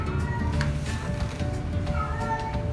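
Cats meowing indoors, several faint, short meows scattered over a steady low background hum, with no talking.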